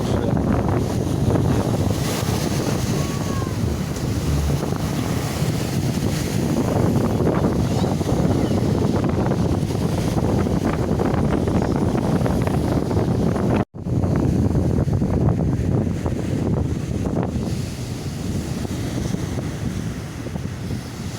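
Stormy sea surf pounds a beach at Liski, a continuous loud roar of breaking waves mixed with heavy wind buffeting the microphone, with a brief dropout midway.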